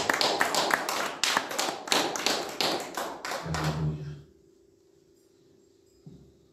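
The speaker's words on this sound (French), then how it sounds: "Acclamons pour la gloire de Jésus" A church congregation applauds for the glory of Jesus, a few seconds of close, uneven clapping that stops abruptly, leaving near silence with a low hum and a faint thump.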